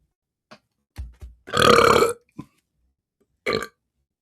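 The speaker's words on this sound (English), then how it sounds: "feel another burp coming" A person burping: one long, loud, rasping belch in the middle, with several short throaty bursts and clicks around it, close and alone with no talk.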